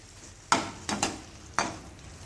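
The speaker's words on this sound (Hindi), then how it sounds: "अब इसी के अंदर हम डाल देते हैं जो हमने स्लरी बना के रखी है उसे, और अच्छे से इसे हम मिला लेते हैं" Cornflour slurry being stirred into chilli potatoes in a hot pan: three or four short scraping strokes of a spoon against the pan, each with a brief sizzle, over a faint background hiss.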